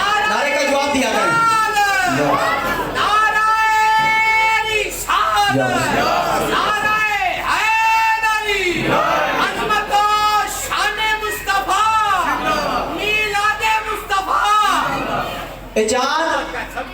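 An audience at an Islamic religious gathering honouring the Prophet chants a slogan back in unison, many voices rising and falling together loudly and continuously, with a single voice leading at points.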